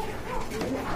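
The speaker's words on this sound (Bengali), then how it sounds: "এক জোড়া মেকপাই রেড গিয়ারের কবুতর দেখতে পাচ্ছেন" Soft cooing from a pair of large red magpie-marked pigeons at a bird market, low murmuring calls running steadily through the second with faint talk mixed underneath.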